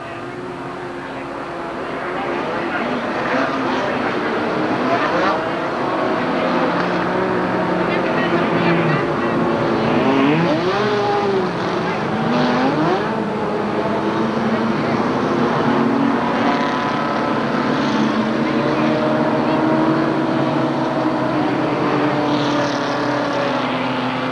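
Race cars at Anderson Speedway get ready before a 1986 ASA Redbud 400 race, a sustained loud engine drone with rising and falling revs and overlapping motors throughout, heard alone without talk.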